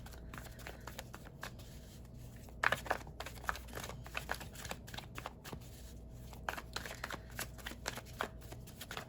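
A tarot deck is shuffled by hand, making quick, close, papery riffles and soft card slaps that repeat in bursts over a quiet background.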